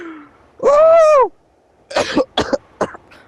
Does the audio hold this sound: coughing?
yes